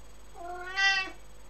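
A house cat gives one drawn-out, rising-then-falling meow at feeding time, clear and close over a faint steady hum.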